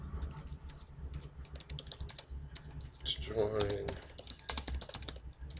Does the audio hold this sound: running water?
no